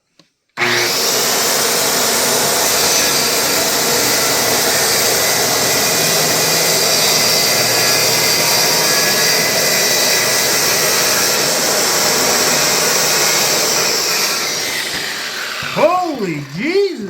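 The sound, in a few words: Dewalt DWE575 circular saw with framing blade cutting chipwood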